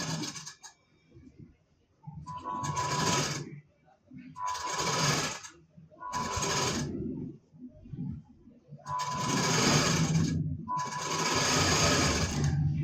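Sewing machine stitching the side seam of a four-tuck blouse, several bursts of fast whirring of a few seconds each separated by short pauses, close and clear, with someone speaking between runs.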